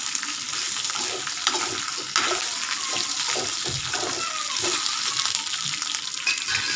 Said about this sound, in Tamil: இந்த வெங்காயம் வந்து ஓரளவுக்கு கலர் வந்து சேஞ்ச் ஆகட்டும், அது வரைக்கும் நல்லா வதக்கி எடுத்துக்கோங்க